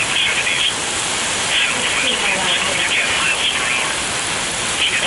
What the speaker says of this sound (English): Rain started to slow down a little bit.